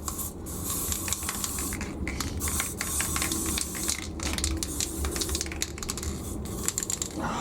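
An aerosol primer can sprays primer onto the side of a Zanussi Electrolux Aquacycle 1200 washing machine in close, steady hissing bursts with brief gaps and clicks between them.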